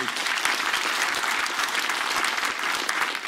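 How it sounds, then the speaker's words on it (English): Steady, dense applause from an audience at an anniversary celebration during a food dialogue event, sustained and even throughout. "A round of applause, please."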